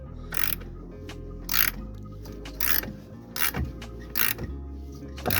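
A ratchet working on corroded bolts during a vehicle restoration, giving sharp clicking bursts in a repeated rhythm about once a second, close and clear over a low steady background hum.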